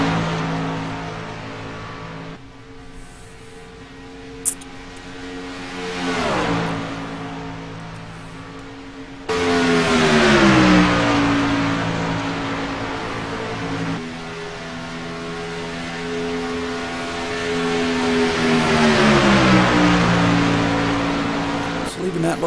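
Race cars lap Talladega during a league race, with loud sustained engine drones whose pitch swells and falls as the cars run together in the draft. A voice talks over the engines.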